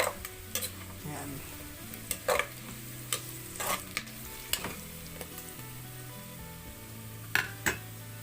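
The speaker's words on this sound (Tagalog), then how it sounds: "medyo ipa-brownish lang po natin yung ating ano, bawang sa sibuyas." Garlic and onion frying in a pan, a steady sizzle under repeated sharp scrapes and clinks of a utensil stirring against the pan, fairly close.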